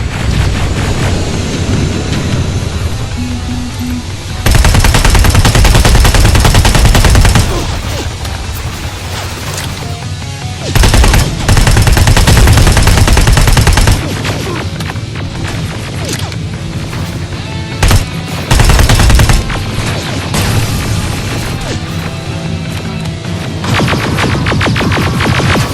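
Machine gun fire in the game Terminator Resistance comes in loud, dense sustained bursts mixed with crashes and explosions, alternating with brief calmer stretches of rumbling battle noise.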